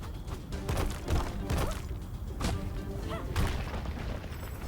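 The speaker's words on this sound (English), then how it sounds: "Sounds like a Looney Tunes noise." Cartoonish smack and thwack effects from the video game KAKU: Ancient Seal, a series of quick punchy hits repeating over a busy game soundtrack, moderately loud throughout.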